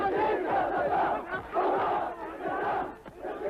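Large crowds in Iraq cheering and chanting for Saddam Hussein: a dense, continuous roar of many voices with rhythmic rising shouts, loud and unbroken throughout.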